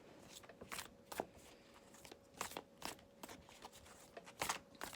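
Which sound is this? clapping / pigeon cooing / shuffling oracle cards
shuffling oracle cards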